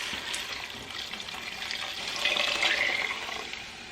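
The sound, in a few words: pouring beef broth into a crock pot soup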